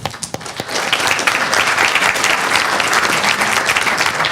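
Audience applause at a public meeting on race, ethnicity and equity: a few scattered claps first, then it swells quickly into loud, sustained clapping from the room.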